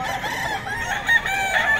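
A Boston White gamefowl rooster crows at a market, a steady, fairly loud call held for about two seconds over a busy background.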